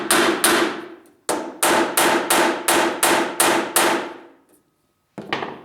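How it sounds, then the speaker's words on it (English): Heavy steel hammer blows ring on the metal body of a Ram truck, about a dozen loud clanging strikes in a steady rhythm, each with a bright decaying ring, with a short pause before the last. "I'm going to get a regular hammer and try and knock that down a little bit."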